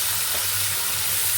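Tomato paste and ginger fry in a pan for a stuffed potato curry, giving a dense, continuous sizzle and hiss close up, with no voices.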